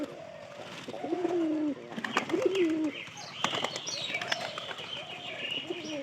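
Pigeons coo from a house roof, several soft bubbling calls repeating close by with brief chirps and a wing flutter in between, steady throughout.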